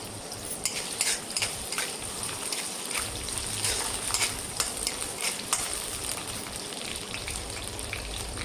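Potatoes fry in a hot iron kadhai, a steady dense sizzle with scattered crackles and occasional stirring scrapes running throughout, close and moderately loud with no voices.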